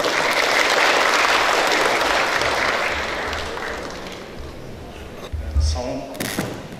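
An audience at a national pharmacists' conference on International Pharmacist Day breaks into loud, dense applause that gradually tapers off, ending with a few thumps and some movement noise.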